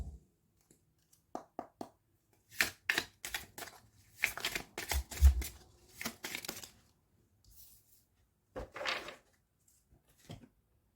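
A deck of petit oracle des cristaux oracle cards is shuffled up close in quiet surroundings, with irregular bursts of riffling, flicking and papery slaps separated by short pauses.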